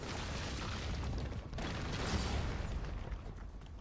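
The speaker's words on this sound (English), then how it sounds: "The fuck is all this explosion shit going on and whatnot?" Continuous rumbling explosions and mechanical clatter from Halo MCC multiplayer gameplay, fairly loud and dense throughout with no clear gaps.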